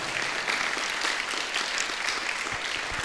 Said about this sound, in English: A real loud applause for her.